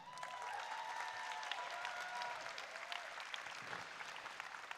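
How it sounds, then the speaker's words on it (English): A crowd at a FIRST Tech Challenge robotics tournament in Texas applauds an alliance team, steady dense clapping heard from some distance and holding evenly throughout. "give this team a big round of applause"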